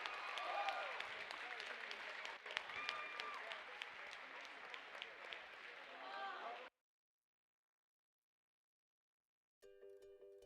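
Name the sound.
applause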